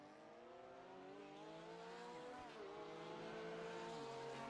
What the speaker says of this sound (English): there's a car racing in the pits